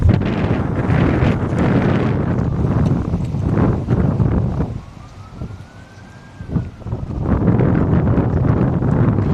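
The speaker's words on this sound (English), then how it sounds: "I'm sorry it's windy out here." Rough, gusty wind buffeting the microphone, loud and constant, easing briefly midway while a faint siren-like tone rises and falls in the background.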